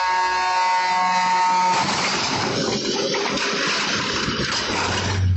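A rail maintenance vehicle's horn blares loud and steady for nearly two seconds while approaching a level crossing, over rumbling engine and road noise, then traffic noise continues.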